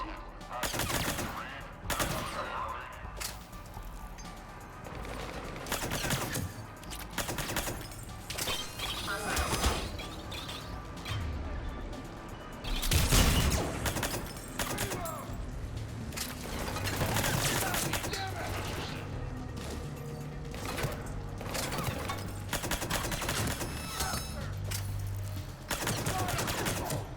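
Video game gunfire in Mass Effect 3 Legendary Edition on Xbox Series X, Citadel DLC, on the Silver Sun Strip: repeated bursts of rapid automatic shots and sharp single blasts across a long stretch of combat, with mechanical clatter and game effects, at moderate loudness.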